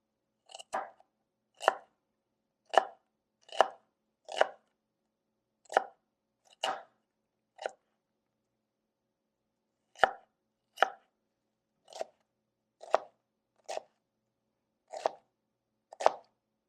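Knife strokes chop an onion on a cutting board, sharp isolated thuds in an uneven series, about a dozen close and clear, with a brief pause midway and no talking.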